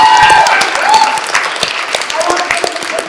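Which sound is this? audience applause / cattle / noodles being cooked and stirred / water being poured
audience applause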